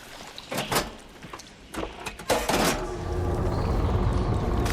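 Rushing water surges through pipes in the video game Horizon Forbidden West, a few clanks and knocks giving way to a steady, loud flowing roar that builds and holds to the end.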